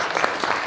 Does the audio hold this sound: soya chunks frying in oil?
no